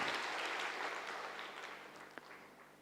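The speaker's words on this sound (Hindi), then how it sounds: "तो अब ताली बजा लीजिए इनके लिए।" An audience at a spiritual gathering applauds in a soft, steady patter that slowly fades, faint and somewhat distant.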